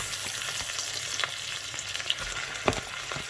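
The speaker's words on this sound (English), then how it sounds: "So at this stage, I'm going to add my turkey mince" Turkey mince hits onions frying in a pan, a dense, continuous sizzle with scattered pops and faint stirring scrapes throughout.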